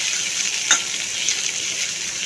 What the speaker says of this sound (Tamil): நல்லா வதக்கிட்டு செவக்க வறுக்கணும்.